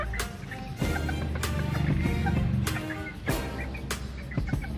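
Serama chickens make soft clucking and chirping calls close by, broken by several sharp knocks or thumps, with no talk over them.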